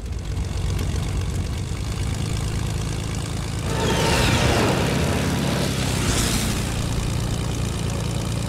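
Propeller planes drone overhead in Fortnite Battle Royale, a steady engine hum that swells into a louder pass midway through, with no talking.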